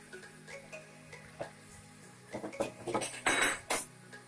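A lid goes onto a pot of simmering mutton curry with a few soft metallic clinks, ending in a louder clattering settle near the end over quiet kitchen background.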